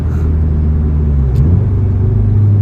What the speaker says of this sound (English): a little downshifting action here